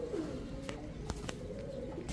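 Pigeons, including King pigeons, coo at a pigeon sellers' farm, giving a soft, low, steady murmur with a few brief clicks and knocks over it, close by.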